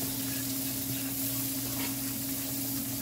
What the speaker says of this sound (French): Je rajoute les oignons et échalotes comme vous voulez.